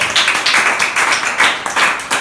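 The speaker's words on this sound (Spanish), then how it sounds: "Otro aplauso para Jesucristo." A church congregation claps in praise, a close, rhythmic patter of hands with distinct beats pulsing roughly in time, lively and fairly loud with no voices over it.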